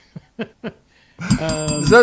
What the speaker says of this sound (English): Just start ringing the bell.